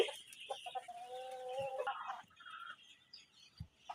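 Adult roosters cluck in short, uneven bursts, with a few louder squawking calls mixed in, close by and without talk over them.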